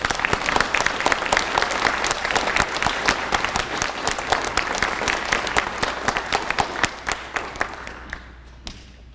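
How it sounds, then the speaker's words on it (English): An audience at a high school JROTC awards and change of command ceremony claps for award winners, dense sustained applause from many hands that thins out and fades near the end. "Let's give these award winners a round of applause."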